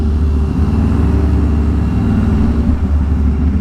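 Sewage pump truck running at a street curb, a loud steady engine drone with a low throbbing rumble that continues without break, no voices heard.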